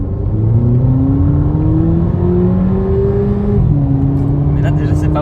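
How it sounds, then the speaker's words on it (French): A 2019 Volkswagen Polo GTI with 200 hp accelerates through the gears from inside the cabin, its engine rising in pitch, dropping briefly at a shift, then climbing again, loud and continuous, while a voice talks over it. "Ça fait 200 chevaux, celle-ci. Polo GTI de 2019."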